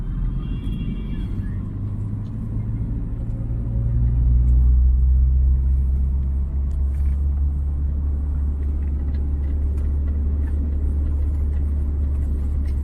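A car pulling away in second gear, a low steady engine rumble that swells briefly as it gains speed, then settles into a constant drone with faint road noise.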